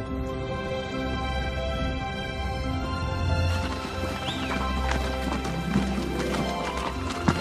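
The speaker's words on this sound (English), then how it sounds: "we feel the strength of our pounding hooves" Wild brumby horses gallop with a steady, pounding clip-clop of hooves, joined partway through by a neigh, all under a dense musical backing.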